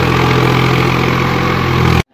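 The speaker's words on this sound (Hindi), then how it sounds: "दूसरा ट्रैक्टर भी आ चुका है, ये देखो दूसरा ट्रैक्टर है।" A tractor delivering bricks for house construction idles in a steady, loud, low chugging drone that continues without a break, then cuts off abruptly near the end.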